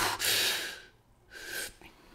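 A human voice imitates a sea turtle surfacing to breathe, giving two breathy, hissing exhalation-inhalation bursts separated by a short pause, close and fairly loud.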